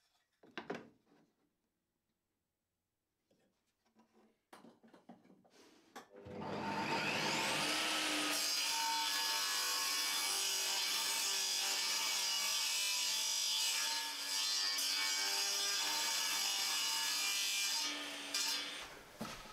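A saw cuts a mitre into a wooden board for a picture-frame money box, a continuous, loud, rasping stroke that runs unbroken for over ten seconds after a few quiet knocks and handling sounds.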